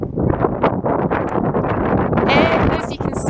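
Strong wind buffets the microphone with a rough, loud rumble at the Maruri Road entrance to Wellington Botanic Garden, with faint rustling mixed in.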